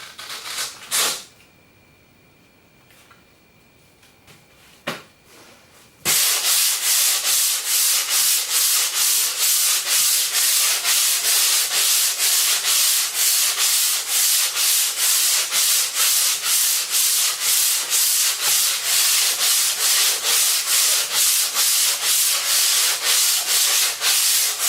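Surfboard sanded by hand with 60 grit sandpaper: after a few scattered taps and rubs, rapid rhythmic back-and-forth scratching strokes begin and continue steadily, close and loud.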